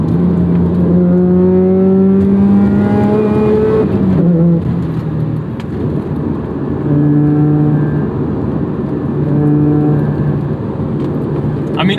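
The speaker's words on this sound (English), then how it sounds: "I'm loving this engine more than I thought I would. The rotary is so smooth." A Mazda RX-8 rotary engine revs up smoothly and winds through rising, then settling pitches, loud and close, with the car audible from the cabin and occasional talk in the background.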